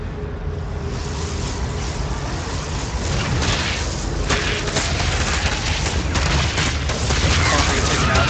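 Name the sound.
battle sounds in video game StarCraft II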